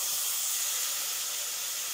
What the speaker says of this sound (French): on va venir déglacer avec un fond de vin blanc